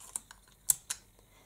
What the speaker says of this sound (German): ich reiße mir jetzt erstmal 3 Stücke Tesa runter